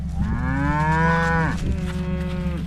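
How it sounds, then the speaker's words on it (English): Cattle on a farm in winter moo loudly and close by, one long drawn-out low call sliding into a second shorter moo, with no talking. "Here's a good opportunity for us to take a look and see what kind of shape these cattle are in here in this winter."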